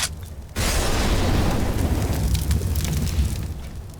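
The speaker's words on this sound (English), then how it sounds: "he's going to want to throw the Molotov like this" Molotov cocktail thrown in the Counter-Strike video game, erupting into a loud, sustained whoosh of burning fire after a brief quiet lead-in, roaring steadily for several seconds with no voices.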